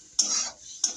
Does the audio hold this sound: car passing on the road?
no